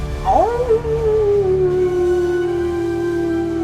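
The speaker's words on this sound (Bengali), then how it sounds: "আর দূরে কোথাও কুকুর যেন হাহাকার করে উঠল" A dog gives one long, mournful howl that opens with a rising yelp and then holds a steady, drawn-out tone, sounding clear and fairly near within a horror story setting.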